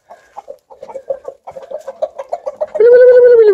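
Sussex chickens, a rooster and hens at a farm in Çağlarca, Antalya, give a close run of short, rhythmic clucks that swell into a long, loud drawn-out call at the end.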